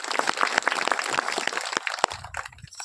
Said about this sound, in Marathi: एकदा टाळकऱ्यासाठी टाळ्या वाजव